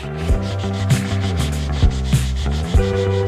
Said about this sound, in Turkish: O yuvarlaklığı zımparayla şimdi sağını solunu düzelteceğim.